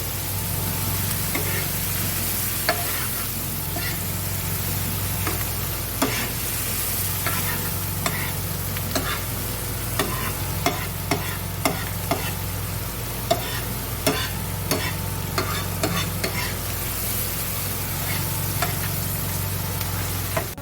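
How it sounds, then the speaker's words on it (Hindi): Capsicum stirred and fried in a pan for pav bhaji, a continuous close sizzle broken by frequent sharp scrapes and taps of a spoon against the pan. "इसमें डाल देंगे कैप्सिकम। चलाएंगे थोड़ा सा, 1-2 मिनट तक इसको पकाएंगे।"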